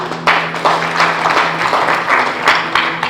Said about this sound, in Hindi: तो एक बार इस पे तालियां बजानी चाहिए